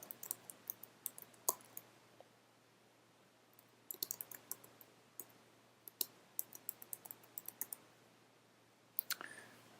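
Fingers tap out an address on a computer keyboard in quick bursts of crisp, close clicks, separated by short pauses, with no one speaking.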